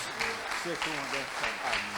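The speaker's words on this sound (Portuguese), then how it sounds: "Agora é para Deus, pode aplaudir mais ainda, que agora é para Jesus" Applause rises from an audience at a church conference, a soft, continuous clapping wash heard beneath a voice speaking over it.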